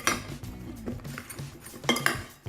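A metal spoon tosses oven-baked potato wedges in seasoning inside a bowl, making a close series of clinks and scrapes against the dish, louder at the start and again near the end.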